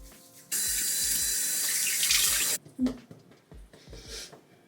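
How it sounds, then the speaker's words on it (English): A bathroom sink tap runs steadily for about two seconds while a face is washed, a loud close hiss of water, followed by softer splashes and handling noises. "let's go wash my face"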